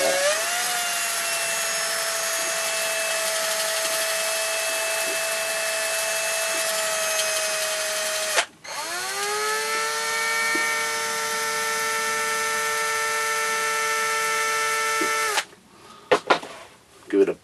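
A power drill bores through a wooden long-stem bushcraft pipe, whining steadily in two long runs separated by a short pause, then cutting off into a few clattering knocks near the end.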